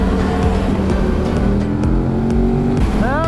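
V4 motorcycle engine, from a KTM Superduke or Aprilia Tuono, revving loudly inside a tunnel on a Spain road tour, a steady close drone with rising pitch sweeps at the end.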